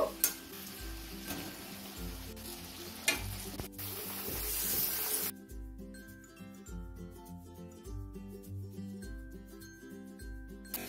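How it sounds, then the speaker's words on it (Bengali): Carrot, capsicum and peas stir-frying for fried rice give a steady sizzle with scraping spatula strokes, partly under background music, and no one speaks. "2 থেকে 3 মিনিট ভাজা করে নিয়ে সিদ্ধ করে রাখা সবজিগুলো দিয়ে দেব।"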